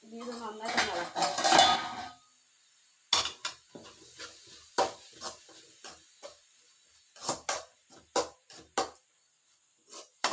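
Beetroot stir-fry (thoran) seasoned with coriander and chili powder is stirred in a pan, a utensil clattering and scraping against the metal in a dense burst, then in scattered, sharper knocks and scrapes.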